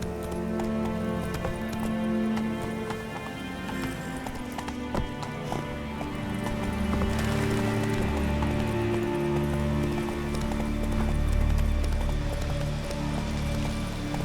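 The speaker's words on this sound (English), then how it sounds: "Run, Roach." Hooves of a horse gallop in a steady clip-clop rhythm through the Witcher 3 video game, carried over a continuous bed of game music and ambience, with a brief shout from a rider.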